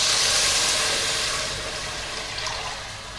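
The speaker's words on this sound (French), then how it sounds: "je vais verser le bouillon de volaille" Chicken broth pours into a soup pot with a loud, continuous rushing splash that gradually tapers off, close and without talk.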